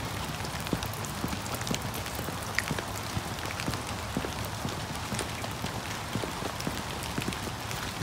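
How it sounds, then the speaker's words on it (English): Heavy rain falls outdoors in a steady, dense patter that spreads evenly across the whole stretch, with scattered sharper drops tapping nearby surfaces and no voices over it. "Freaking rains like crazy here."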